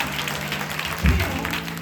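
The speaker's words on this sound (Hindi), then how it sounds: "जो समझ रहे हैं जोर से ताली बजाएंगे प्रभु के लिए।" A church congregation claps for the Lord during a Sunday ministry service, with a short burst of applause rising about midway through a low, steady room hum.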